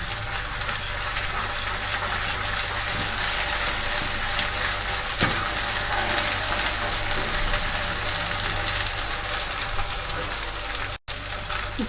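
A ginger, garlic and green chili paste with fresh coriander fries in a pan for sarson ka saag, giving a steady, dense sizzle that stays even and moderately loud throughout, broken by one brief cutout near the end.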